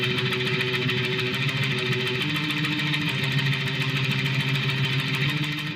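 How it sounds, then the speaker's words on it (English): Fast triplet tremolo riff on a heavily distorted electric guitar, played up to speed as a dense, continuous buzzing wall of picked notes that shift pitch every couple of seconds, loud and steady with no voices. "But then it goes into this triplet tremolo riff thing,"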